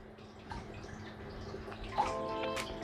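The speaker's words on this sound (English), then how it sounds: "That's moving quite a bit of water." Aquarium water churns under a Jebao SCP-150 gyre pump running at full blast, a constant soft rushing with small drips and gurgles on top and a slight swell near the end.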